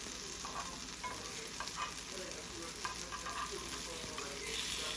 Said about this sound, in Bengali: ওই বড়াগুলো এখন ভাজা হচ্ছে